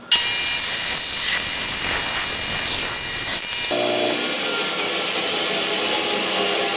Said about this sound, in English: So now I'll just take these pieces on the bandsaw and cut along this arc.